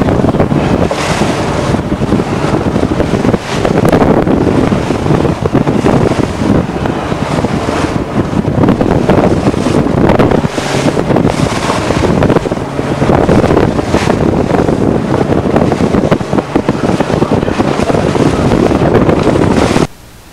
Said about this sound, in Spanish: Las olas estaban verdaderamente grandes y las corrientes encontradas.